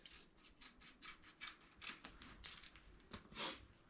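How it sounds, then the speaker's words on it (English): Scissors cut a Tear-Aid repair patch for a fabric ground blind in a quick run of faint, close snips, evenly spaced with small pauses between cuts. "I'm going to cut me another patch panel the same size"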